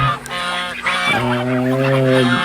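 Geese honk loudly and close by, a few drawn-out nasal calls, one long honk stretching through the second half.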